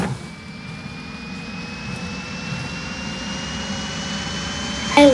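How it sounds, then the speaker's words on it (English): A steady, loud jet engine roar from an F-18 fighter jet in the Minecraft video game, with a sustained whine rising slowly over a dense broadband rumble, ending in a brief sharp click. "Why are these fighter jets going without me?"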